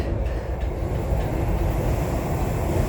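Transperth TCL C-series electric train, car 3133, running on the line out of Perth, heard from inside as a steady low rumble and smooth wheel noise with no distinct clicks.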